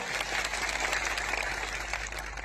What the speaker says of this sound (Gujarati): પોલીસ કર્મીઓ માટે જોરદાર તાળીઓ પાડી લો